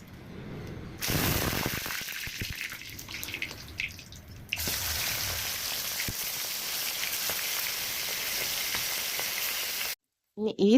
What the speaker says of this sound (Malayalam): നമുക്ക് ചിക്കനെ പൊരിച്ചെടുക്കാം.